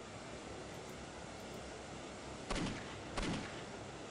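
Steady, dense rushing water fills the scene in the video game Postal 2, a constant wash of noise throughout, broken near the end by two sharp, loud bangs about a second apart.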